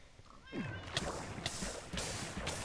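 Minecraft cat meows, a short series of separate calls in a game scene, with quiet sounds between them.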